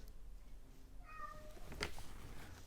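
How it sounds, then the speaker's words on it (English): A pet cat gives a single drawn-out meow, clear and fairly close, with quiet room noise around it and no talking. "That's her cat."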